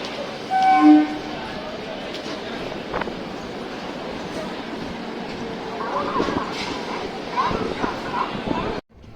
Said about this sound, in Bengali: ট্রেন একদম দুরন্ত গতিতে ছুটে চলেছে